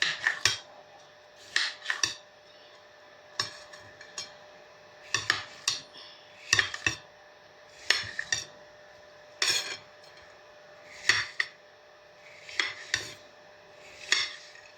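Dragon fruit being cut into small pieces with a knife, with a run of sharp, separate chops and clinks against a board or plate coming at an irregular rhythm, close and clear, with no talk.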